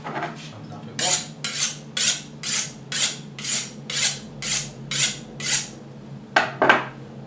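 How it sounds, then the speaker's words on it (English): A large steak knife is sharpened with about ten steady, rhythmic metallic scraping strokes over a low background hum, followed by a couple of quicker strokes at the end. "Sharpen that a bit more."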